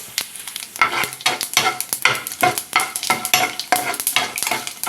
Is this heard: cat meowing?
no